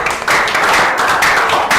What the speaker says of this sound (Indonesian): ya tepuk tangan buat Jaden.